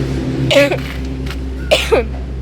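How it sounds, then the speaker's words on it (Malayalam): Two short, harsh coughs, one around the middle and another near the end, close by over a steady low hum. "ചുമ സമ്മതിക്കുന്നില്ല"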